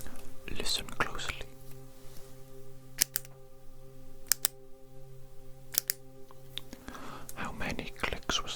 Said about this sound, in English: tell me the total number of clicks that you hear, regardless of their position